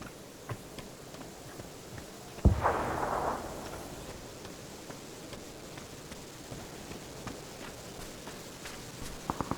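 One sharp gunshot cracks out in a video game, followed by a fading rumble, with faint scattered clicks and distant pops before and after.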